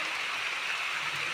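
Steady rain pours down on a village during a storm of rain and hail over wheat fields, a dense, even hiss with no talk and no distinct drops standing out.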